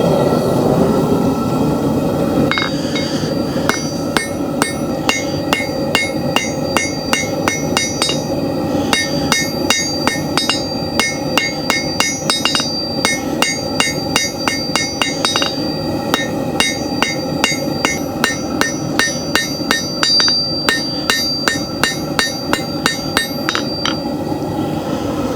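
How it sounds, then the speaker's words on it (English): Blacksmith at a pioneer museum demonstration hammering a hot metal nail on an anvil: loud, steady, evenly paced hammer strikes with a bright metallic ring, carrying on continuously with no talking. "Now once the metal is hot enough, I'm going to take it out of the fire and take it over to the anvil."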